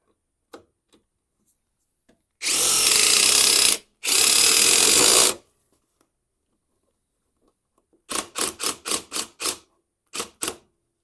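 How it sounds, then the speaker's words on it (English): A power drill boring into metal: two long, loud bursts of harsh grinding noise, then a series of short sharp bursts, with quiet clicks scattered between. "as this is drilling into the metal, it is kicking up some metal shavings"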